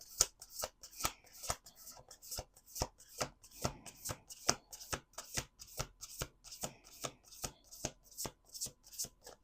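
Tarot or oracle cards shuffled by hand, a steady series of crisp riffling bursts repeating at an even quick rhythm, close and fairly quiet, with no talking.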